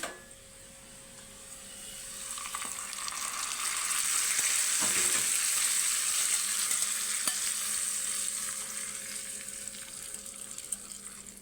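Hot tempering poured into beaten curd for perugu vada, giving a steady bright sizzle that swells over a couple of seconds and holds close and continuous, with faint stirring noises and no talk.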